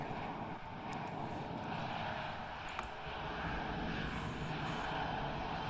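A CRJ 200 airliner's jet engines hum in a flight simulator, a steady broadband roar holding at moderate level throughout with a faint brief click partway through.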